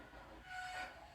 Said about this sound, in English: He blew an extra long whistle.